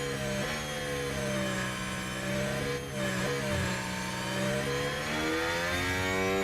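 High-revving Formula 1 engines in the game F1 Manager 2023 scream steadily, the pitch sliding up and down through shifts as cars pass, loud and continuous without speech.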